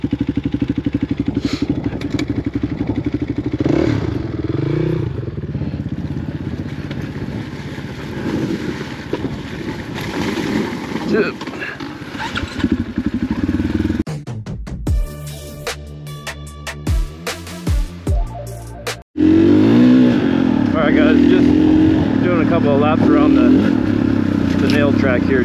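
An off-road dirt bike rolls down a slick hill in first gear, its engine droning steadily and close under heavy wind buffeting. The engine drops out briefly, then returns loud and rough. Riders talk over it.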